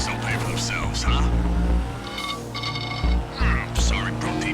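A truck driven in GTA Online, its engine rumbling and revving over several bursts of acceleration, loud and close, with someone talking over it.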